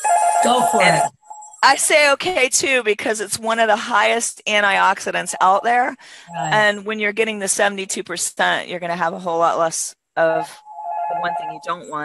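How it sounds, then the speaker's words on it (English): A telephone rings with a repeated electronic trill at the start and again near the end, loud and close, while two people keep talking over it. "Sorry about the phone. I don't know how to turn it off."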